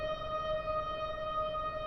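An ASM Hydrasynth digital synthesizer runs through its Cloud granular delay and reverb effect, giving a steady, sustained smooth tone with a bright ringing pitch over a soft washy low hum, with no talking.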